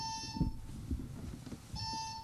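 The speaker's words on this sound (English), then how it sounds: "let's also test the buzzers too" Quiz bowl buzzers being tested before a high school match, giving two sustained electronic beep tones near the start and end with a steady pitch, over a busy room with people talking in the background.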